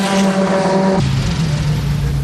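The number 3 CompuWare Corvette race car on its final lap, a loud, close engine roar that drops in pitch about a second in as the car passes, with faint commentary underneath.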